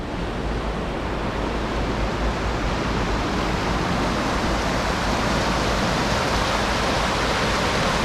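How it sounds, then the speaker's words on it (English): River water flowing past a drifting boat near Cooper Landing, Alaska: a continuous, even rush of moving water, fairly loud and close, with no speech. "The water is moving."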